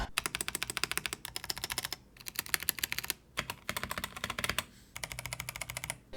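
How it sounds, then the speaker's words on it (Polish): Rapid clacking keystrokes on a mechanical keyboard, typed in steady bursts with brief pauses between runs, close and crisp with no talking. "posłuchajcie jak klawiatura brzmiała przed czyszczeniem"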